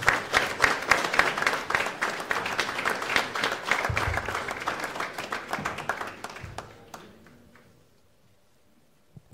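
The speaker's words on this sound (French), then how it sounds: "je vous prie d'accueillir avec des applaudissements le président de région, Harry Chalus." Hall audience applauds to welcome a regional president onto the stage, brisk, fairly close clapping with individual hand strikes audible, tapering off over about seven seconds into near silence.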